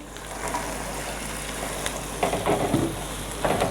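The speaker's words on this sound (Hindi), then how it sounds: "शिमला मिर्च इतनी सी हम फ्राई करेंगे, इसका कलर नहीं चेंज होना चाहिए। इसमें साथ ही अब हम गाजर डाल देंगे" Capsicum and carrot frying in a pan for restaurant-style Chinese rice, a steady close hiss of sizzling oil with bursts of stirring and scraping toward the end, no voices.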